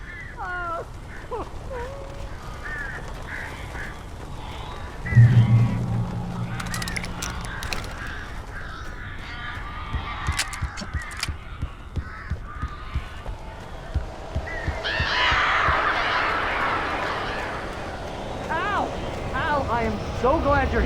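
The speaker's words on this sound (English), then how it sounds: "These birds are weird." Birds caw and flutter in the horror game Alan Wake Remastered. Sharp, scattered calls come at the start and return later amid thumps and rustling, mixed with voices and in-game sound.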